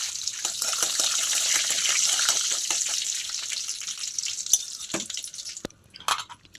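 Mustard seeds, cumin, chana dal and curry leaves tempering in hot oil in a kadai, a loud bright crackling sizzle that dies down, then a few sharp pops near the end.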